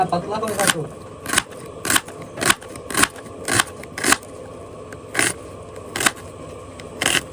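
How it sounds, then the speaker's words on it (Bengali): Onions chopped with a knife on a board in a home kitchen, heard as a steady series of crisp, evenly spaced cuts about every half second under low background noise. "পেঁয়াজ কিন্তু কাটা শুরু করে দিলাম"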